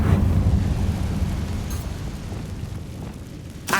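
A Confringo fire spell blast from the video game Hogwarts Legacy, a loud, full rumbling explosion that starts at full strength and slowly decays across several seconds, with a fresh burst flaring at the very end.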